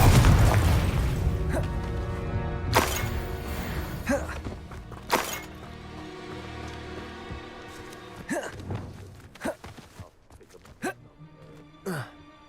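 Bombarda and Confringo spells in the Hogwarts Legacy video game set off a string of explosions: a big opening boom, then scattered sharp blasts, bursts and shattering hits over a tense game soundscape, with occasional voices.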